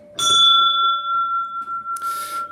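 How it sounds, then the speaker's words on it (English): A dinner bell beside a patio grill at a log cabin rings out loud and clear, its bright tone sustaining and slowly fading, then a second quick burst of jangling rings comes near the end. "next to my dinner bell"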